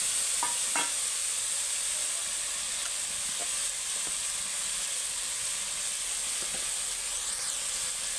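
Spice paste sizzles and hisses in a hot pan of oil while cooking a Bengali bhola fish dish, a steady faint frying crackle with a few light scraping stirs, no voices.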